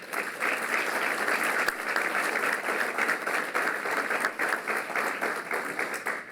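Dense, steady applause from an audience at a New York event with Governor Cuomo, sustained and fairly loud throughout with no pause.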